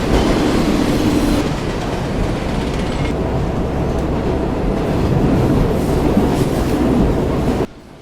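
A subway train rolls along with a loud, continuous rumble and rattle of wheels on track, ending in an abrupt drop.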